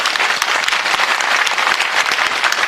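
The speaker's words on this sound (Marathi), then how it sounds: "टाळ्या वाजवा" An audience at a Marathi bharud devotional folk performance claps loudly and continuously, producing a thick, even wash of applause that holds steady from start to finish.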